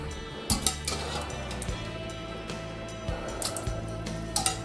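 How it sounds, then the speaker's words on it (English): Sausages for a Creole rougail being dropped into a bowl of cold water give a few faint, scattered splashes and light clinks against a quiet background. "We're going to put our sausages in cold water to cool them down quickly."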